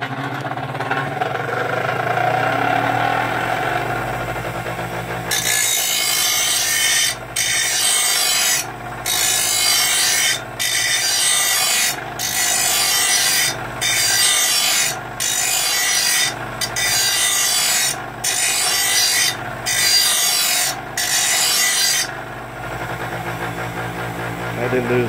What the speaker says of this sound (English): he needed a grinder, a side angle grinder